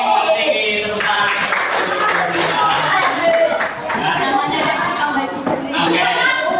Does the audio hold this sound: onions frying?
no